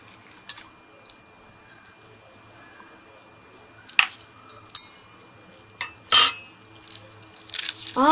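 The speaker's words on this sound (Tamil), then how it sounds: "செகண்ட் முட்டை கட் பண்ணி பாக்குறேன்" A suspected plastic egg is cut open into a bowl, giving a few sharp clinks and taps against the dish over a quiet room with a faint, steady, high background whine.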